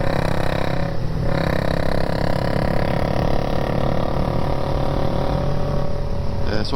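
A single-cylinder 250 motorcycle engine idles loud and close with a steady, even drone and a smooth low rumble from start to finish.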